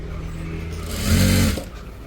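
A sewing machine stitches right along the edge of a blouse neckline, with a steady motor whir that swells for about half a second in the middle and then settles back, close by and alone.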